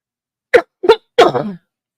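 Three short, sharp coughs in quick succession, close by, the last one slightly longer and rougher.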